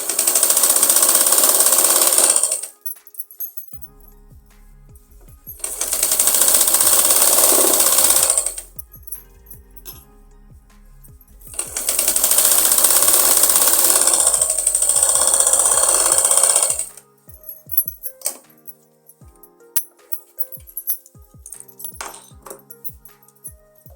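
A sewing machine stitches an umbrella frock in three loud bursts of rapid whirring, each a few seconds long, separated by quiet pauses filled with small clicks and handling noises.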